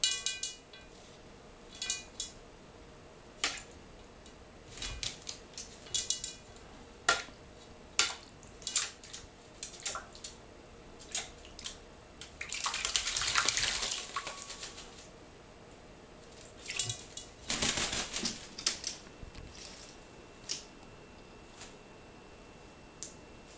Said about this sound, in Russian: Классно купается, классно